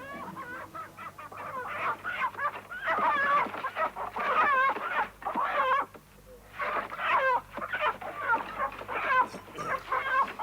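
A hen clucks continuously in a farmyard near Beijing, China, with rapid chattering bursts of clucks broken by brief pauses, close and fairly loud.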